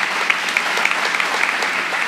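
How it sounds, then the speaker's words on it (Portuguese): Church congregation applauding, a dense, loud wash of many hands clapping at once, steady and close for the whole stretch, with no speech on top. "Você pode aplaudir o Senhor, queridos?"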